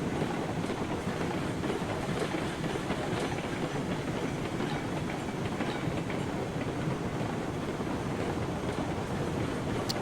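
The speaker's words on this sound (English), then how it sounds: "Don't like the sound of this train though." The Climax steam locomotive in Railroad Online runs with a continuous loud rumble and a harsh, noisy churn, steady throughout.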